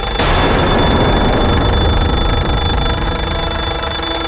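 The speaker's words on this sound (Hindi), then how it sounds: "अलार्म बजा" An alarm clock rings before dawn with a loud, continuous electronic tone held steady over a dense, noisy wash from start to finish.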